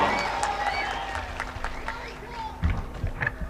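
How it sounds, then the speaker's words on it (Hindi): Scattered applause at a poetry mushaira welcomes the poet, a few sparse claps and crowd murmurs mixed with voices, fading toward the middle and picking up briefly near the end. "जोरदार तालियों से इस्तकबाल।"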